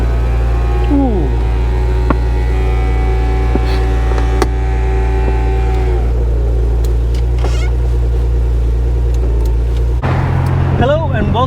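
Porsche 986 Boxster driving, a steady low engine drone with sustained hum and rising and falling tonal whines, shifting character near the end as the pitch changes.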